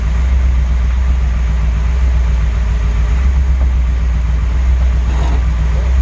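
A 1984 Camaro Z28 with a budget 383 stroker V8 running steadily on its first drive in 17 years, a loud, constant low rumble heard close up with no talk.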